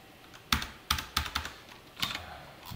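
Computer keyboard keys pressed during JSP bulletin-board coding work: a handful of crisp, separate clicks and short clusters of keystrokes, close and fairly quiet, with no talk.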